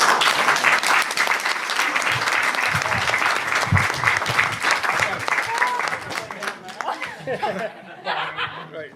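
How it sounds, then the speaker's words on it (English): Wedding guests applauding during the speeches: a sustained round of close, lively clapping with some chuckles, tapering off over the last few seconds as murmurs remain. "So if we can have a bit of a round of applause for all those people"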